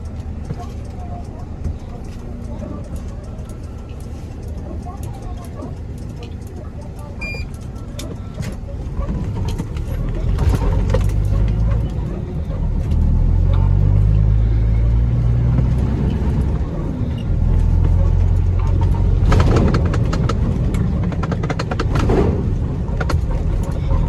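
A passing road vehicle, likely a car, rumbles up close with a low engine drone that swells louder midway, heard from a pond-side spot with talking over it.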